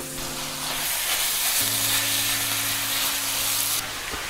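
Steady sizzling and frying as minced meat cooks in oil in a hot pan, loud and continuous, with a low hum fading in and out beneath it.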